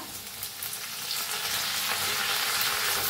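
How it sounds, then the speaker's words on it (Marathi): A tempering of mustard seeds, cumin, hing and ground garlic, with leaves, sizzles and roasts in hot oil while it is stirred, the hiss building slightly louder and staying steady, with no one talking. "त्याला हलवून भाजून घेऊया चांगलं।"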